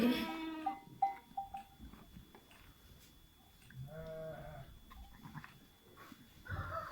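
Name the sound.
sheep being sheared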